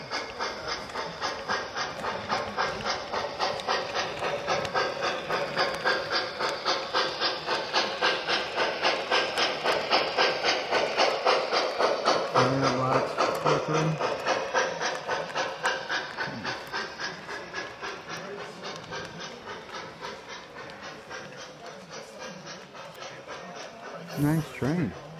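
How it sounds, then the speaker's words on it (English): An MTH model train with a Mars light runs along its track with a steady rapid clicking rhythm and whirring hum, slowly fading somewhat, with faint voices in the background, in a model train store. "Nice train."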